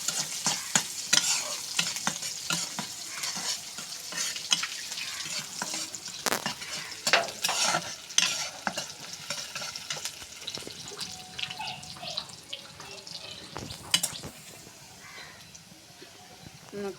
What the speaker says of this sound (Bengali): পেঁয়াজটা বাদামি কালারটা ভাজি নিয়েছি